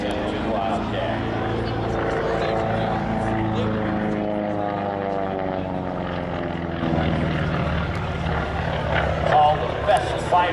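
An F-2 Wildcat fighter plane at a military air show drones overhead with a steady propeller engine roar that sweeps in pitch as it passes, while an announcer talks over the sound.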